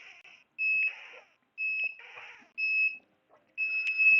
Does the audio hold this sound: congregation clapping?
no